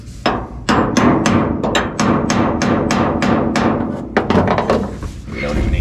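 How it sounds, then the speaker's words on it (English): A hammer strikes a chisel while a door is being adjusted: a rapid run of about a dozen sharp, loud metallic blows close by, a brief pause, then a few more hits. "Taking this chisel, this hammer,"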